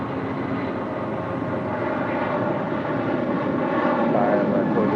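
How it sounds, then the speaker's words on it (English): A Southwest Airlines Boeing 737-800 arriving from Phoenix roars steadily overhead, a loud continuous engine rumble that swells slightly toward the end, with no voices. "This flight coming in from Phoenix, Arizona, Southwest Airlines flight 1931 and a 737-800."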